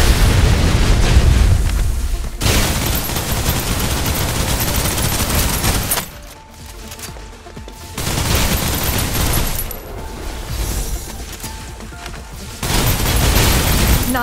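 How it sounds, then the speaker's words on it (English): Suppressive gunfire and explosions in the video game Snowbreak Containment Zone, with loud sustained bursts of rapid shooting and booms broken by short quieter gaps, and no talking. "Suppressive fire."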